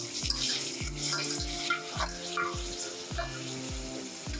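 Onions and chopped tomatoes for biryani fry in a pan with a continuous loud sizzle, while a spoon strikes and scrapes the pan in a quick, regular stirring rhythm about twice a second.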